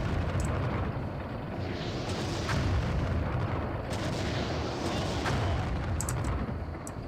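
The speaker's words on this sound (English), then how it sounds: "The stock explosion sounds are great." Explosions and weapon fire in the space shooter game Everspace 2 rumble continuously, a dense roaring barrage with sharp blasts layered on top.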